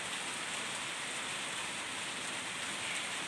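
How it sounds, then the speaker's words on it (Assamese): Steady heavy rain falls on a rainy-season garden of plants, a dense, unbroken hiss filling the whole stretch with no voices. "ইমান বেছি বৰষুণ পৰি আছে"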